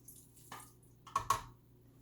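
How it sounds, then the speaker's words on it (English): Water added a little at a time to thick piping buttercream in a stand mixer bowl with a paddle: a soft splash, then two sharp, close drips in quick succession, over quiet room tone. "Okay, so I'm going to add the rest of the water"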